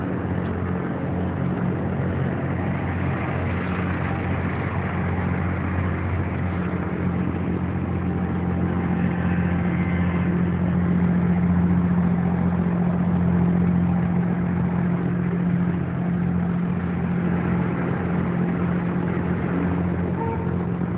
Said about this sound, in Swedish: Här bredvid flödar landtrafiken vidare.